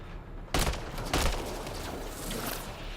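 Gunfire in Mass Effect Andromeda, played on PC: two loud, close shots each followed by a long, noisy rumbling tail that fades slowly.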